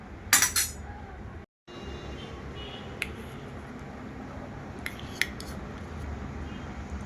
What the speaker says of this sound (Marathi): आता आपण झाकण लावून घेऊया